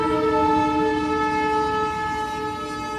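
A water park ride train in Jorhat sounds a long, steady horn with strong stacked tones, loud and close, held for about three seconds over a low rumble of the moving train.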